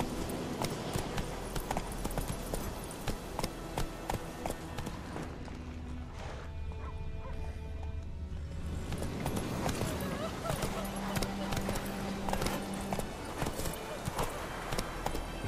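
Hooves of Geralt's horse Roach in The Witcher 3 clip-clop steadily at a gallop through the whole stretch, with speech over the hoofbeats and game background music.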